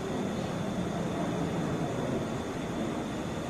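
A Delta Airbus A321 airliner rolls along the taxiway at Atlanta airport, its engines giving a steady, broad jet roar at a moderate distance with no breaks and no voices.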